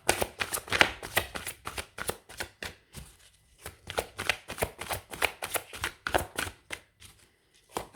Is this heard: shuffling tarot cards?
yes